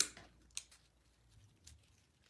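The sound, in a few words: scissors snipping lavender and eucalyptus stems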